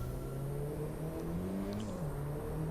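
Audi A1 in the racing game Driveclub heading downhill, a steady mid-pitched engine drone with rising and falling whine, with a faint turbo whistle over the continuous hum.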